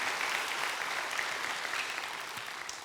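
Congregation applauding during a Sunday worship service, a soft, distant wash of many hands clapping that holds steady and slowly fades.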